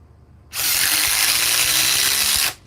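A Ryobi power tool fitted with the new Edge battery runs steadily for about two seconds, a loud, even high-pitched whine that starts and stops abruptly.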